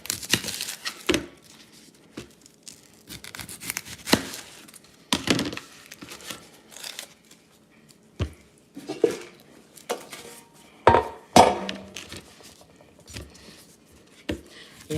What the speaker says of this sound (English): I'm about to cut an onion.